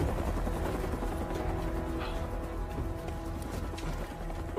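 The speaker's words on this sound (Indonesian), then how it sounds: "bersama anggotanya dia menggunakan helikopter menuju ke tempat jatuh kapsul." A helicopter in a monster film flies overhead as a continuous low, throbbing rotor rumble, fairly faint and steady throughout, with no speech.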